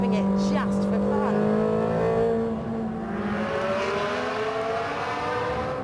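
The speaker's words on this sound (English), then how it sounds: "I defy anybody not to fall in love with that engine. Oh, it's just delicious, proper race car stuff, and you end up revving it just for fun." Ferrari 360 Challenge Stradale V8 engine revving loudly close up, with rising and falling harmonic pitch sweeps and sharp throttle blips, steady and dense throughout.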